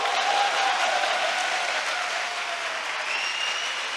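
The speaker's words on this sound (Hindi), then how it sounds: "give a good clap for the Lord" A church congregation claps together in praise, dense and even applause filling the room, steady from start to finish and easing off slightly toward the end.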